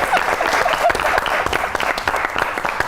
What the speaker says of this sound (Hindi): अब देखें कितनी ताली बजी